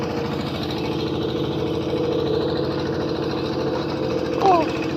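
A Yanmar tractor engine runs steadily during a rice harvest, a constant mid-pitched chugging rumble close by, with faint voices and a brief sharp sound near the end.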